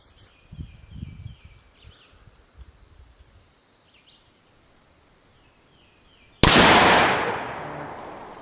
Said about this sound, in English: Range is hot. This is gonna be a first shot.